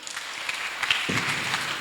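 A church congregation breaks into applause during a Sunday service, a short, loud burst of many hands clapping together.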